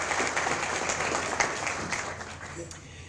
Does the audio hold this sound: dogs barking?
no